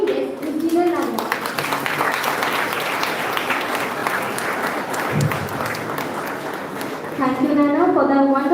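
Enthusiastic audience applause greets a guest on an entrepreneur talk show, a loud, dense burst of clapping sustained for several seconds, with speech briefly at the start and returning at the end.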